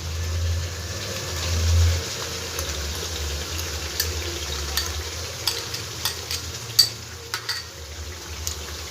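Spice paste for jackfruit kofta frying in a pan over a medium gas flame, a soft continuous sizzle over a low hum, with spoon scrapes and clinks growing more frequent toward the end, no voices.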